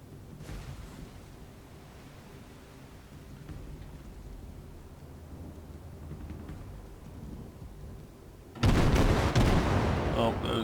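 An enemy destroyer fires on a ship in World of Warships. A low, steady rumble of engines and sea runs for several seconds before a sudden loud, crackling burst of naval gunfire erupts and carries on to the end.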